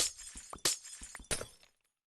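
Three quick glass-shattering crashes from Minecraft, close and bright, spaced about half a second apart with smaller clinks between, then silence.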